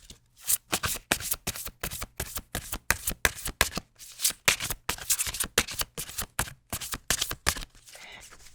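A deck of cards being riffled and shuffled repeatedly, a rapid series of crisp, close flutters with short pauses between bursts.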